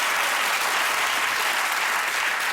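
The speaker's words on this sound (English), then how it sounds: "They're applauding the assassination." Loud, dense applause from a studio audience at a comedy panel show, continuous and unbroken throughout.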